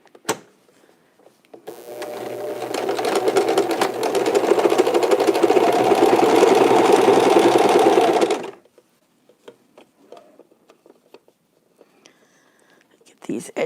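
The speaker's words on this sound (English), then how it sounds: "I'm going to top stitch it along the bottom here too to make it look nicer." A sewing machine topstitches along the bottom edge of a fabric face mask, running as one loud steady burst of several seconds close by, followed by quieter handling noises.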